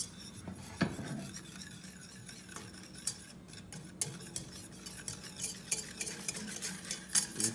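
Whisk stirring chocolate frosting in a pan over a small burner, a steady scraping and clinking of metal against the pan with occasional sharper taps, close and fairly quiet with no talk.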